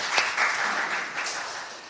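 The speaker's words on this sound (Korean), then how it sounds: "박수 한번 쳐주시죠" Audience applause at a panel discussion, a brief dense burst of clapping that starts strong and slowly tapers off.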